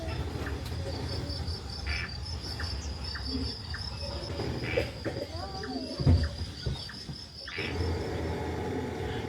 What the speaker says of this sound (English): All set against a chorus of crickets.